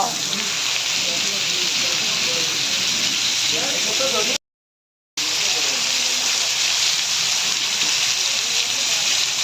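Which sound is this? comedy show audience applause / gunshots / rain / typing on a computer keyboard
rain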